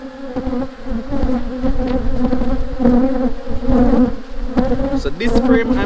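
Bees buzz loudly and close during an inspection of the second brood chamber, a thick, wavering drone that holds steady throughout with no voices.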